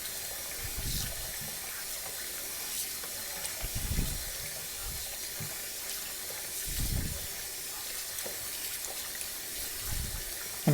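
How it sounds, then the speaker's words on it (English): Warm-ish tap water runs steadily into a bowl while flour dough is washed to make seitan, a close, continuous rushing and splashing with small surges and no voices. "I'm going to wait to finish my sentence while the water's running, so you don't hear the water running and you hear me."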